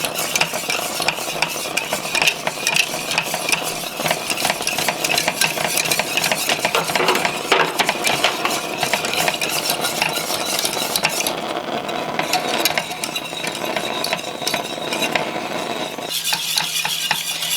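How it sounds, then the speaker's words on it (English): Homemade liquid latex mixture being stirred in a pot on a burner, a steady scraping and stirring with light sizzling that runs continuously and close up, with no voices. "You just want to keep stirring it so it doesn't burn to the pot"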